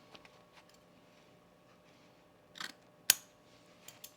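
Scissors snipping through fabric while sewing a quickie tool case, a couple of quiet cuts with one sharp, close snip standing out against a soft background.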